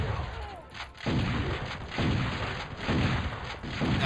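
Sustained bursts of enemy minigun fire in the Turok Evolution shooter game, loud and close, in several long rattling stretches broken by brief pauses.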